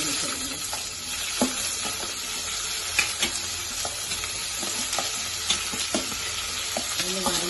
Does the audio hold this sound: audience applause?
no